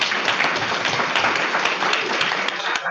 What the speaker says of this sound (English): So give those folks a round of applause.